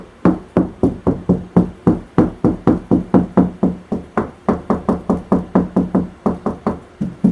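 Knuckles rap on a house wall to find a stud behind 16-inch-on-center framing: a steady string of dry, hollow knocks, close and alone, about four per second.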